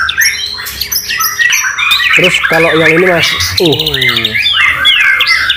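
A white-rumped shama (murai batu) sings loudly and close by in a run of rich, varied whistles, warbles and sharp chirps, while someone speaks over it.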